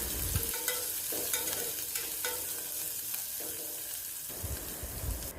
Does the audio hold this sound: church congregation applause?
no